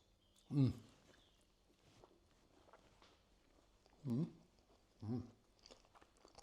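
Air-fried halloumi with sriracha sweet chili sauce is chewed in three short, close bites, with quiet pauses between them.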